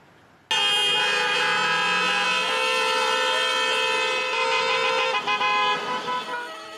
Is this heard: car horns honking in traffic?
yes